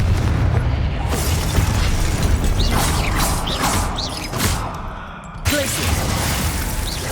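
Blasts from the Confringo fire spell in Hogwarts Legacy burst over a loud, busy game soundscape, with several sharp booms and crackles in quick succession.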